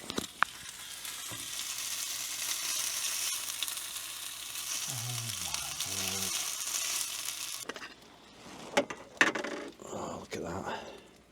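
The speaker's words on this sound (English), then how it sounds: "Oh, sizzle." Food sizzling and frying in a pan at an off-grid campsite, a steady crackling hiss lasting several seconds, then quieter clinks and stirring while someone talks softly.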